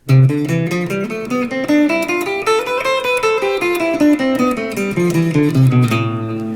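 A guitar runs up and back down a scale in even groups of three notes per beat, played cleanly and continuously without any voices.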